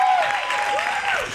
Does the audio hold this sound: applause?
yes